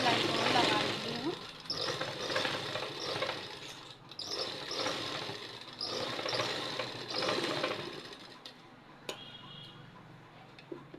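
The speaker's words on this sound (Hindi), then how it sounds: "तो एक सिलाई और लगा लेंगे हम।" A sewing machine stitches a tuck blouse in rhythmic bursts of rapid mechanical ticking, each run separated by brief pauses, close up, with a voice talking over it.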